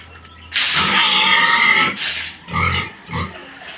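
Pigs grunt and squeal at feeding time, first a long, loud, harsh squeal close by, then several shorter grunting bursts in an uneven rhythm.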